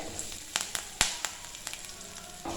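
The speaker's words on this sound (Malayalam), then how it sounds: "എണ്ണ ചൂടായിട്ട് വരുമ്പോൾ ഇതിലേക്ക് കടുകിട്ട് കൊടുക്കാം. അതേപോലെ തന്നെ ഒരു നുള്ള് ഉലുവ, 2 വറ്റൽമുളക്, കുറച്ച് കറിവേപ്പില." Mustard seeds, fenugreek, dried chillies and curry leaves sizzle in hot oil for Kerala rasam, a soft steady fry broken by sharp popping crackles scattered close by.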